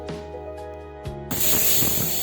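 A pressure cooker cooking cluster beans and potatoes lets out a sharp burst of hissing steam partway through that continues loudly to the end, preceded by a few quiet clinks.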